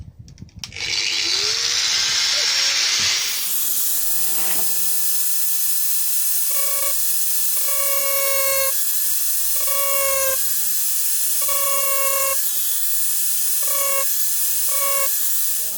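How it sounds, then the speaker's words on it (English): An electric grinder starts with a harsh hissing burst of cutting, then settles into repeated whining pulses as the tool revs up and down over and over, close and loud, during an electric hook-up installation. "Using grinder, which I never can use."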